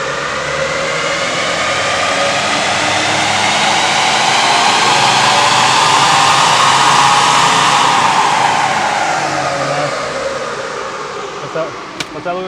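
A Ford Triton engine runs up on a dyno, a loud steady roar that rises and swells toward the middle, then eases back down, with a short click near the end.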